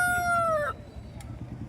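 A rooster crows once, loud and close, at a busy Bhadradri Kothagudem poultry market where hens are sold. Low crowd murmur and faint clucking continue under and after the crow.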